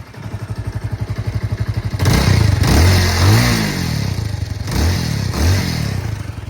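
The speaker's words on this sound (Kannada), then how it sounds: "ಇವಾಗ ನಾವು ಈ ಬೈಕನ್ನು ಸ್ಟಾರ್ಟ್ ಮಾಡಿ ಎಕ್ಸಾಸ್ಟ್ ನೋಟ್ ಸೌಂಡ್ ನೋಡೋಣ" A Bajaj Avenger 220 Street BS4 motorcycle idles with a steady, even thump from its exhaust, then is revved loudly several times, each rise swelling and falling back toward idle.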